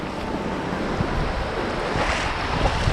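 Sea waves breaking at a beach with gusting wind buffeting the microphone, a loud, continuous wash of surf and roar with no voices.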